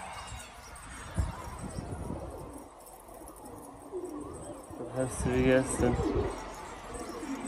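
Karabalık pigeons coo in a loft, a cluster of low throaty calls rising toward the end, while someone talks over them.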